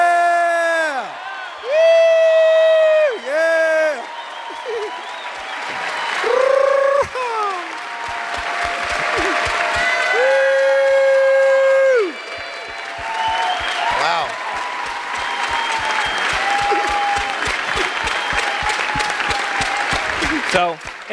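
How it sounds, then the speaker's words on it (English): An audience at a marketing event claps and cheers loudly, with whoops and shouts from the crowd over a sustained burst of applause, while amplified voices and tonal sounds rise above it at times. "So could you please cheer for Chelsea, because she's the one that deserves it."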